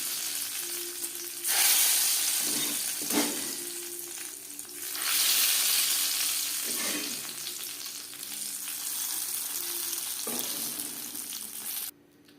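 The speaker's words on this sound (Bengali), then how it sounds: "ফোড়ন মিক্সড করে দেব" A spice tempering fried for about 30 seconds is stirred into vegetable khichuri made with winter vegetables, giving a loud close sizzle that surges in bursts with spoon scrapes against the pot, then cuts off abruptly at the end.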